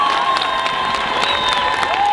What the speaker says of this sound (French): Merci de les applaudir bien plus fort